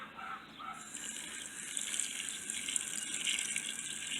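Water rushes steadily from a garden hose into an old tire, beginning with a gurgle and settling into a continuous hiss of flow.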